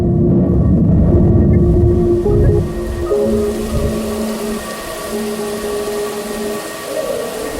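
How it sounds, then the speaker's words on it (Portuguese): Running water from vegetable washing, a steady rushing wash of noise with some low thumping at first, then continuing under faint tonal hum. "Para muitos, o som da água pode ser bem relaxante."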